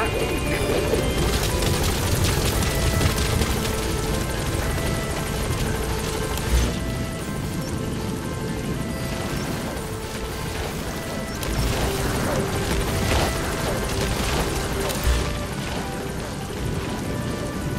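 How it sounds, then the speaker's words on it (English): A support helicopter arrives in Metal Gear Solid V, its rotor chopping steadily and loud throughout with engine roar and a few heavy thumps, while game voices talk over it. "Support helicopter has arrived."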